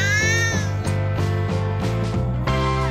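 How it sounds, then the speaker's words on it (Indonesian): A cat meows in one long, drawn-out call with a rising then falling pitch, loud and close, with no other sounds around it. "Meong panjang menunjukkan bahwa kucingmu sangat senang melihatmu."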